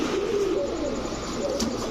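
Pigeons, racing and high-flyer birds kept for sale, coo softly in short rolling calls over a steady hum of background noise.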